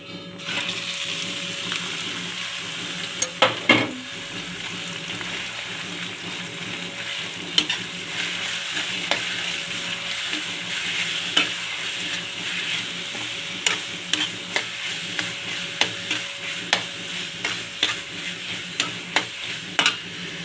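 A ground paste of coconut, onion and green chili fries in a pan under a soft, continuous sizzle, with frequent light clicks and taps of stirring scattered throughout.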